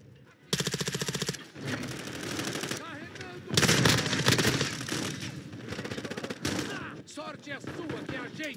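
Rapid automatic gunfire from Call of Duty Modern Warfare team deathmatch on the Shipment map, loud bursts and sustained volleys with scattered shots, mixed with game sounds and someone talking over it.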